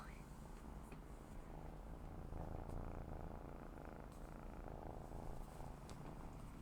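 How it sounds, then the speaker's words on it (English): A cat purrs in a low, steady rumble, close by and continuous, with faint background sounds but no clear talking. "Could you hear his purr?"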